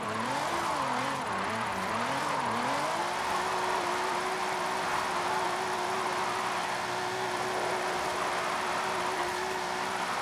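A Nissan GT-R with a tuned twin-turbo engine drifts in Forza Horizon 5, the engine revving up and down in wavering pulses before settling into a steady high drone, loud and close throughout.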